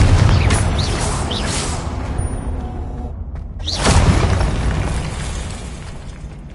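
In Hogwarts Legacy on PS5, a Confringo blast spell explodes twice, each a loud, crackling boom followed by a fading rumble and debris-like scatter.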